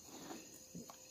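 Crickets chirp outdoors at night, a faint, steady high trill that runs through the whole moment, with a few soft low sounds beneath it.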